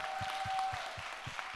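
A youth-group congregation at a Sunday church service claps together, a steady wash of applause from many hands in a room, moderately loud, with a faint held tone and soft low thumps beneath it.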